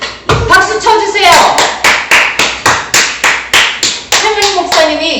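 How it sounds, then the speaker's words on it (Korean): Church congregation clapping in a rhythmic beat during a Sunday worship service, loud and close, with a preacher's voice speaking over the first and last seconds. "박수 쳐주세요."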